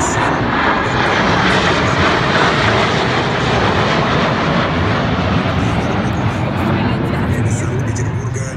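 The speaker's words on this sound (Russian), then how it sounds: "И военно-морского флота группа противолодочных вертолетов" Naval anti-submarine helicopters fly over a Victory Day parade in Kronstadt, a loud, steady broadband engine and rotor roar that fills the whole stretch without letup.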